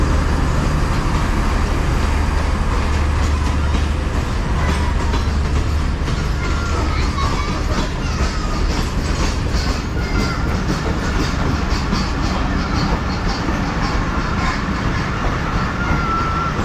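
A train with red carriages at Bahawalpur railway station rumbles steadily nearby with clattering wheels and a continuous loud roar.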